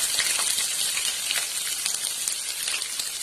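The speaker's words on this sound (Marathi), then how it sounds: "आता फ्राय करून घेते" Sliced onion with mustard seeds, cumin and curry leaves sizzles steadily in hot oil in a kadhai for kande pohe, a constant bright crackle with small pops, close and continuous with no voices.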